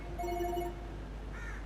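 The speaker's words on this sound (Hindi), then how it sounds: "इसका फोन आ गया ये।" A telephone ringtone plays an incoming call, a short electronic tone sequence, faint and alone in a quiet room.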